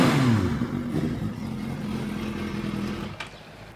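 A motorcycle engine revs loudly and close, starting with a falling whine and settling into a rough rumble that fades slightly toward the end.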